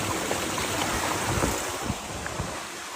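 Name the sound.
flowing stream water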